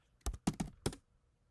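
A computer keyboard's right arrow key is pressed twice, then a few more quick clicks follow, close and fairly quiet with silence after.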